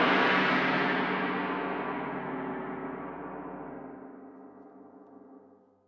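A tam tam struck hard, a bright crashing metallic roar that blooms and slowly decays, ringing on for several seconds.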